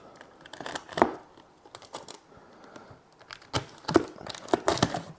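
Tape being pulled and torn away to free a variegated plant stuck in its pot, heard as several close, sharp ripping and crinkling bursts in an irregular rhythm with brief quiet gaps between.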